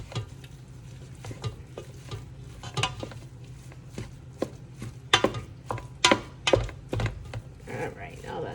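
Chili ingredients simmer and sizzle in a pot while a spoon scrapes and knocks against the sides in irregular strokes, with soft background hiss and a few sharper clanks near the end.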